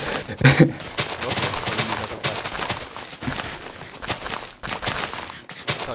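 TNT blows up in the video game Minecraft, opening with a loud, sharp blast followed by several seconds of dense, crackling rumble and scattered pops that fade unevenly.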